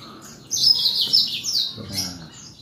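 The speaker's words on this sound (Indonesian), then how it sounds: "Ada murai trotol juga nih" A murai trotol songbird kept for sale sings a bright, high chirping phrase at close range, with a second shorter burst near the end and faint talk murmuring beneath.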